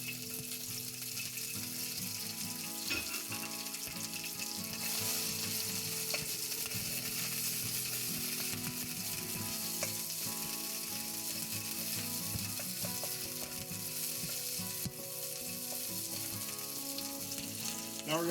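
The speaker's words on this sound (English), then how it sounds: "Now that the oil is hot, we're just going to add some garlic chili paste. Now we're going to add the onions." Onions and garlic chili paste hit hot oil in a vegetable stir fry for noodles, making a dense, continuous sizzle close up with faint stirring scrapes throughout.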